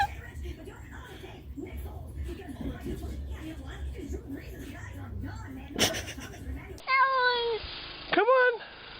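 A cat meows twice near the end, short rising cries coming close and clear after a stretch of murmured talk and rustling.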